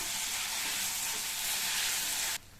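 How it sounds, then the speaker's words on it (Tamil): Onion, garlic, tamarind and tomato sizzle steadily as they sauté in a pan for a peanut chutney, a close, continuous hiss that drops away abruptly near the end. "இப்போ இது எல்லாமே நல்லா வதங்கி வரட்டும்"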